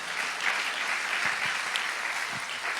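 A church congregation applauds a pastor's sermon on Genesis 38, a fairly distant, steady wash of clapping in a large room, fairly soft throughout.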